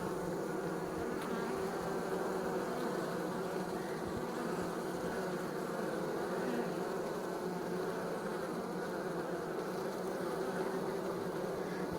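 Honey bees pour out of a hive on cleansing flights, a dense, continuous buzzing swarm close by that holds steady throughout with no break.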